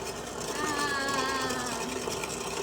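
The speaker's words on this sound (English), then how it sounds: "set the mixer on a low speed and blend" Electric hand mixer blending muffin batter at a supposedly low speed, giving a steady whirring buzz with a faint wavering pitch, close and fairly quiet.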